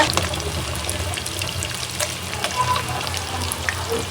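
Fish fries in a pan of oil, a close, steady sizzling hiss scattered with sharp pops and spits throughout a few seconds, with no voices.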